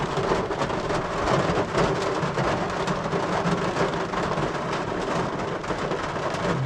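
Steady rain falls outdoors at night near a parked vehicle at a creekside fishing camp, a dense, even hiss with low rumbling underneath that continues unbroken throughout.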